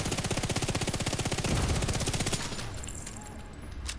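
Rapid automatic gunfire in The Division 2, a fast even burst of shots lasting over two seconds, loud and close, then fading to quieter game ambience with a brief final hit.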